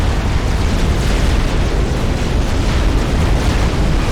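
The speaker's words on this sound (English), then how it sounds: "Battleships going down for both teams." Battleships exploding and sinking in a large 4v4 real-time strategy battle on the Setons map: a dense, continuous roar of booms and blasts at steady loudness, with no distinct individual hits standing out.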